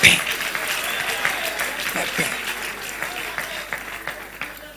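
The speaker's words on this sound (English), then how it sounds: "Don't stop clapping." A crowd at a 2023 Nigerian political rally claps steadily and densely for the whole stretch, with faint cheers mixed into the broad applause.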